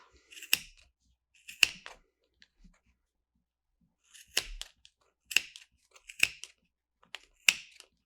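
Scissors snipping through yarn wound on a Clover pom-pom maker, six or seven crisp separate cuts, close and clear, spaced irregularly with quiet gaps between them and no speech.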